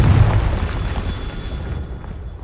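In the Hogwarts Legacy video game, the fiery Confringo explosive spell goes off as one deep booming blast that rumbles and fades out over about two seconds.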